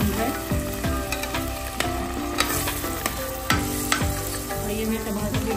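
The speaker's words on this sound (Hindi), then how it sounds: "मैंने इसमें कीमा डाल दिया और कीमा भी भून गया" Minced meat (keema) fries in a pan while a spatula stirs it, giving a loud close sizzle broken by repeated sharp scrapes and knocks against the metal.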